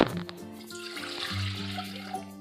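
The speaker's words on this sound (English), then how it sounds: "So you're then going to take your 2 cups of water and put it in a pot." Two cups of water are poured into a cooking pot, a bright splashing trickle with ringing, shifting tones as the pot fills, close and fairly quiet with no talk.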